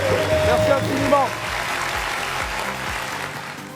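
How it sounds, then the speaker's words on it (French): Audience applause in a studio show, a steady wash of clapping that fades a little partway through, with voices and some background music underneath. "on va applaudir encore très fort, s'il vous plaît"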